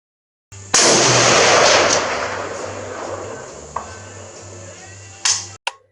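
Single loud gunshot from a Hillbilly Firearms 7.62x51mm Galil AR rifle, a sharp close blast with a long decaying rumble and echo, followed by a faint metallic clink.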